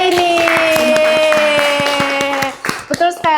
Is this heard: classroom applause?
yes